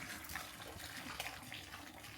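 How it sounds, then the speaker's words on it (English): Water pours from a tap or jug into a pot of pasta for a creamy chicken fajita dish, a steady close splashing rush that runs unbroken for the whole span with no talk. "We're just gonna pour some water in and then keep adding it if we need to."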